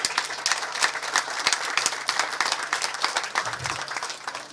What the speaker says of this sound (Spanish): Yo pido un aplauso para el padre de Clerc.